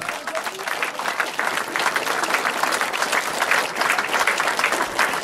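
Steady, dense applause from a large crowd at the Circuit des Ardennes 2010 cycling race, stage 4, continuous and loud throughout with no pauses.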